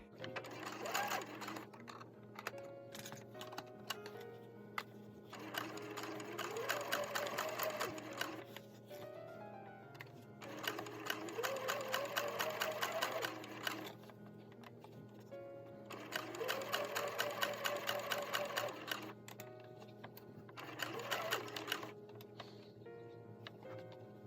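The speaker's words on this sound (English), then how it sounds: "I clip it and then I sew it freehand on the machine" A sewing machine stitching piping onto a curved edge of an 1830s dress piece, running in four steady bursts of rapid mechanical whirring separated by short pauses, close and fairly quiet.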